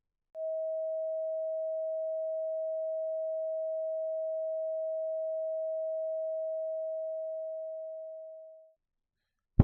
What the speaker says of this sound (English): the noises that Mr. Dre was referring to were known as isotonic tones